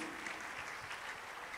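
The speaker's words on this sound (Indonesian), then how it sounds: "Tepuk tangan buat Tuhan Yesus." A brief burst of applause comes from a church congregation at a New Year's Eve service. It is a steady, soft wash of clapping with no talk over it.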